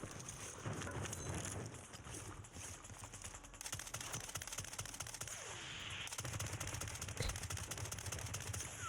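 Automatic gunfire in the Warzone battle royale game, dense bursts of rapid shots running nearly throughout, fairly loud with wind-like noise and game ambience underneath.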